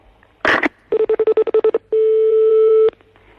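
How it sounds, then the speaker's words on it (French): Telephone keypad tones placing a call: a brief burst of noise, then about ten rapid evenly spaced dial beeps, followed by one long steady ringback tone that ends abruptly. "il est en train d'essayer de vous joindre au téléphone"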